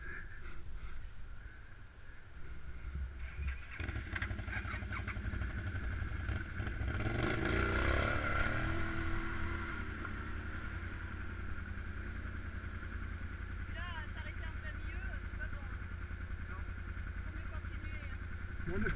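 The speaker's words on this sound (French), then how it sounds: "Tu montes tout seul sur ton quad." A quad bike engine runs at a village telethon event, a steady mid-pitched motor drone that swells louder around the middle as it revs, then settles back to idle, with people talking nearby.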